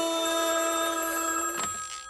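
A telephone bell rings with a bright, sustained tone that holds for about a second and a half, then is cut off and fades away.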